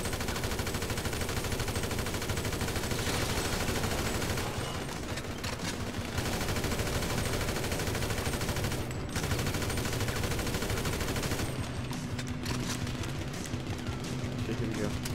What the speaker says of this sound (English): I'm shooting at him and he's not doing anything.